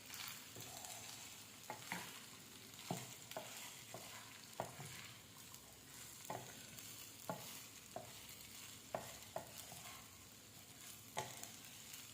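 Soaked sago pearls, with sesame seeds, fry in a pan for khichdi under a constant sizzle, while a spoon scrapes and stirs in a repeated, uneven rhythm of sharp clicks, close and clear.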